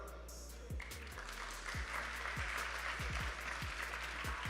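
An audience at the Brawl Stars Challenge Finals, a mobile esports event, applauds in a faint, sustained wash of clapping, with low thumps from the venue underneath.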